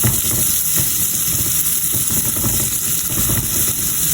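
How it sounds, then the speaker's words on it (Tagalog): Garlic and onion sauté in hot butter with a steady, close sizzle and light stirring taps throughout, with no talking. "mainit na ang ating butter. Nilagay ko na ang ating bawang."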